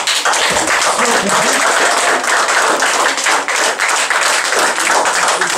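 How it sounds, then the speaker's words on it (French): A dense wash of crowd applause fills the whole stretch, loud and steady, with many hands clapping at once. "c'est moi qui vous applaudis."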